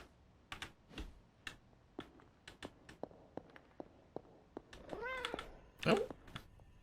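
A cat meowing in the video game Marvel's Midnight Suns, a couple of short meows near the end following quiet tapping and clicks.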